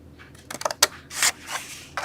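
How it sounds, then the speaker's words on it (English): Scissors snipping through cardstock along a score line, a quick series of crisp close cuts and rustles with short pauses between strokes. "We're going to cut up the score line and cut that off"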